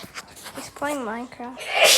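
One sharp, loud sneeze bursts out at the very end, right after a person's brief speech, on a rainy day indoors.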